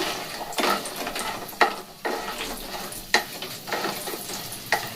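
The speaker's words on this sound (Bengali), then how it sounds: "বড়িগুলো ভাজা হবে, আবার আমি এগুলোকে তুলে রেখে দেব" Bori lentil dumplings frying in oil, a continuous close sizzle with periodic scrapes and knocks of a spatula stirring them around the pan, no voices.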